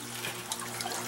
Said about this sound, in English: Sounds like the pump still functions.